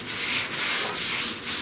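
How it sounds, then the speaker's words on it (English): Light hand sanding of epoxy primer on the rear body panel of a 1969 Chevrolet C10 pickup, a close, steady back-and-forth rasping in rhythmic strokes with no talking. "just making a very light pass. I'm not sanding hard."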